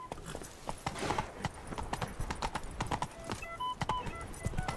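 Horse hooves clip-clop steadily at a riding pace in The Witcher 3, a close, busy run of hoofbeats with faint game ambience and no speech.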